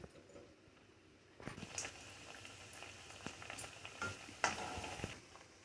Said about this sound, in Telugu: ఇగోండి ఇలాగా కాల్చుకోవాలి మీరు పూరి